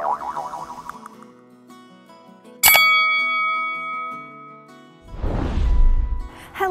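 A bright chime strikes once and rings out with a long shimmering decay, set among other short synthetic effects, a wobbling tone before it and a low rumbling whoosh after.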